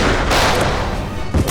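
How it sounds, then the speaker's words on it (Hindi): Rapid gunfire sound effect in a CID crime drama, a dense, loud burst of overlapping shots filling the whole moment with continuous crackling blasts and a sharper hit near the end. "धड़ाधड़ गोलियां चलनी शुरू हुई।"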